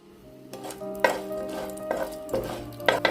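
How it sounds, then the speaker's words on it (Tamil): Urad dal fries in a little oil in a pan, a close sizzling crackle broken by several scraping, clanking strokes of a spoon against the pan as it is stirred. "கொஞ்சம் ப்ரௌன் கலர் வர வரைக்கும் வதக்குங்க"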